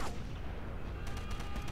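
Enemy gunfire in the Sniper Elite video game, with a dense, rattling burst of distant shots over a constant noisy background, fairly faint overall.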